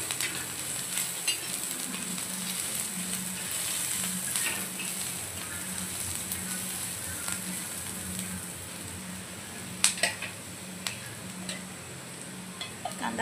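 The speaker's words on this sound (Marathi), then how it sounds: "आपण आधी कांदा भाजून घ्यायचा आहे। एकदम हाय फ्लेमवर आपण आधी मसाला तयार करून घेऊया।" Onion frying on a high flame in a pan for a katla fish curry masala gives a soft, continuous sizzle, with light stirring clicks and a few sharper taps from the utensil, and no talk.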